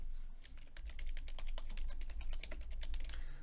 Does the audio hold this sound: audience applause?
no